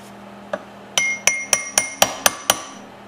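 Hammer tapping a taper pin into a hole during a Maytag engine rebuild: one light tap, then seven sharp metallic taps in a steady rhythm, close and clear, ringing briefly after each strike.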